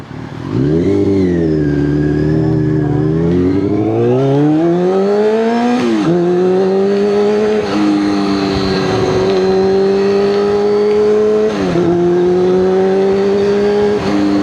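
A motorcycle engine revs hard under acceleration, its loud, close tone climbing steadily in pitch and holding a sustained drone without pause, with brief dips between gear changes.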